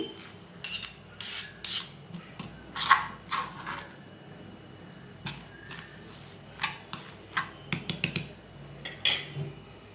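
Tamarind chutney with onion is pounded in a mortar, producing irregular scraping and grinding strikes of stone on stone, close and moderately loud, coming in uneven bursts with short pauses between them.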